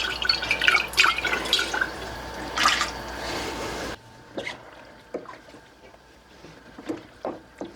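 Water swished around inside an emptied 15-ounce tomato sauce can, giving sloshing, splashing sounds close up, with louder swirls at first and then quieter scattered drips and clinks.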